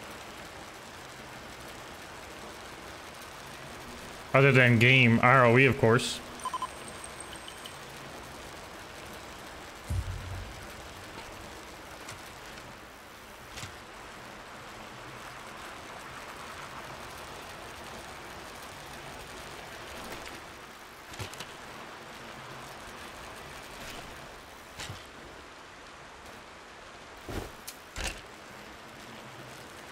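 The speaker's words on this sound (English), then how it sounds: "The rain in this game is so nice" Steady rain in the video game Ring of Elysium forms a constant, even hiss throughout, with a brief loud tonal burst early on and a few faint knocks scattered over it.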